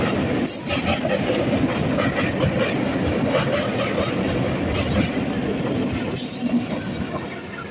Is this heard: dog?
no